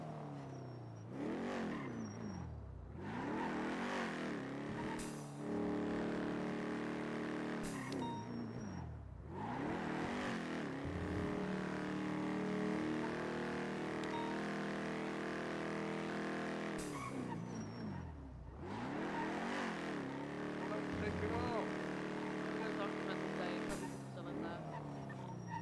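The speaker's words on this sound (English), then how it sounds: "Damn, car's so loud." A loud car engine in the NoPixel GTA roleplay video game revs and shifts repeatedly, rising sweeps and gear changes cycling throughout at close range, with occasional speech mixed in.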